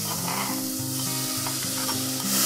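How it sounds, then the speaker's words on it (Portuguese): Onion sizzles and fries in a pan while being stirred for a homemade tomato sauce, a steady close hiss with scraping stir strokes and a low hum underneath, no speech. "Ó, a cebola já tá fritando aqui."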